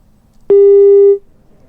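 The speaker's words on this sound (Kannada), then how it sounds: "ಓಕೆ, ಕರೆ ಕಟ್ಟಾಗಿದೆ." A telephone busy tone sounds after a phone call to a former chief minister drops, a single steady electronic beep lasting under a second, loud and alone against faint background hiss.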